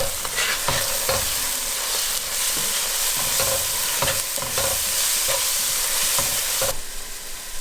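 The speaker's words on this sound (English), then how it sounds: "We're going to add this to the onions and just fry that." Onions frying with ginger garlic chili paste, salt and pav bhaji masala, a loud continuous sizzle broken by repeated scrapes of a spoon stirring the pan.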